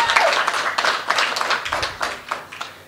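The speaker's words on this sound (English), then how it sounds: "Round of applause." An audience at a South African public service union conference gives a round of applause, a dense patter of many hands clapping close by that gradually thins out.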